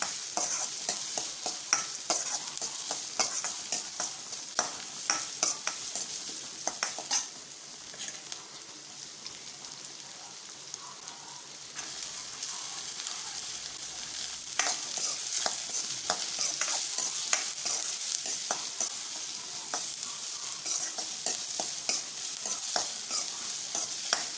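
Onion and then garlic sautéing in a pan for a Tirunelveli/Thoothukudi-style lentil-ball curry (paruppu urundai kuzhambu): a steady bright sizzle with repeated stirring scrapes and clicks throughout, close and fairly loud, with no talking.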